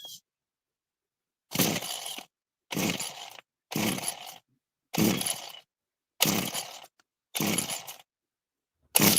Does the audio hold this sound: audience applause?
no